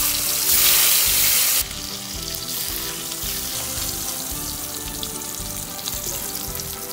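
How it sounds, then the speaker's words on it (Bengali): Pomfret fish frying in hot oil give off a steady, loud hiss, with a brighter burst of sizzle near the start that settles into a continuous crackle. "এবার বাকি মাছগুলোও ভেজে নেব"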